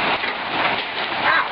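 Hail pelting down during a hailstorm, a loud, continuous hiss of countless tiny impacts with no gaps, filling the whole moment.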